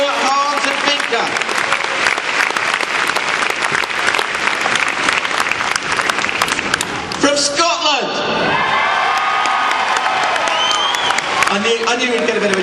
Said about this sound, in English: I knew we'd get a bit of a cheer for them